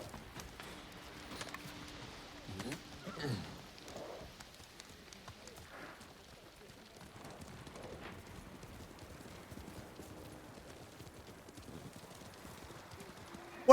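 Hooves clip-clop steadily as a horse moves in the samurai game Ghost of Tsushima, a fairly quiet rhythmic patter over low ambient game sound, with a few louder thuds early on.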